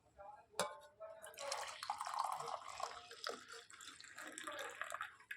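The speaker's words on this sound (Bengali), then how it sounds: "চাটা এখন ছেঁকে নেব চা হয়ে গেছে" Brewed tea poured through a strainer in a home kitchen, a brief liquid trickle and splash that runs on for several seconds with soft clinks, close by, while a voice talks quietly in the background.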